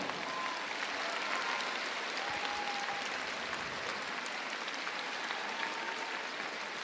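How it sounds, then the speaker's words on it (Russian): Arena crowd applauding figure skater Adelina Sotnikova after her show-program performance, a steady, fairly distant wash of clapping that holds evenly throughout with little else over it. "Ваши аплодисменты, Аделина Сотникова."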